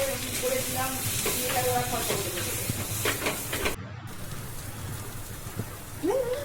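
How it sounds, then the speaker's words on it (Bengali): Fish paste stir-fried in a wok with spices and oil, giving a steady loud sizzle and scraping stirs throughout, with a short cut in the middle. "কষানোর পর যখন তেল ছেড়ে আসবে তখন পেস্ট করা মাছটাকে কড়াইয়ের মধ্যে দিয়ে আরও অনেকক্ষণ ধরে কষতে হবে"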